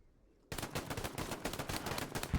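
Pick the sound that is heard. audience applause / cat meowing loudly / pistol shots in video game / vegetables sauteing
pistol shots in video game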